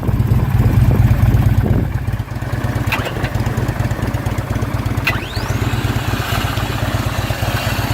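A 2009 Harley-Davidson Tri Glide Ultra Classic trike with a 110-inch motor idles close by, a loud, steady low rumble that eases slightly after the first couple of seconds, with a few faint clicks over it.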